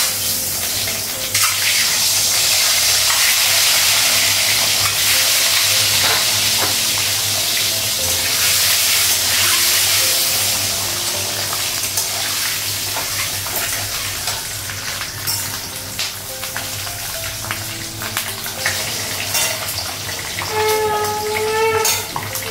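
An egg with green chili and onion frying in a pan gives a steady, loud, hissing sizzle that carries on without a break, with small crackles and clinks scattered through it.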